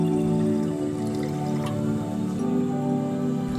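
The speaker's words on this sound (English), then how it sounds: "Fill a bowl with a lot of water." Water is poured to fill a bowl for a hydrangea arrangement, a trickling, dripping liquid sound with soft splashes over a steady background hum.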